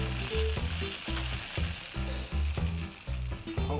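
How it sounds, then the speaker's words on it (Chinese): Bean curd skin rolls fry seam-side down in olive oil in a pan, a steady loud sizzle throughout with a few soft stirring clatters, no voices. "先朝下去把它煎到定型之后"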